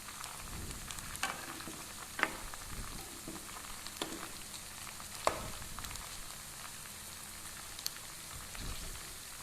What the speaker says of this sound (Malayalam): ഇനി നമുക്കിതൊന്ന് തിരിച്ചിട്ട് അടുത്ത വശം കൂടെ ഫ്രൈ ആവുന്നത് വരെ ഒന്ന് വെയിറ്റ് ചെയ്യാം.